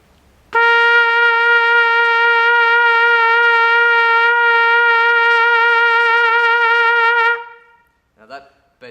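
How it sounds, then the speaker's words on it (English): A trumpet holds one long, loud sustained note with lip vibrato, the pitch wavering gently for about seven seconds before fading, then a few faint short sounds. "I'm going to talk about vibrato in this video"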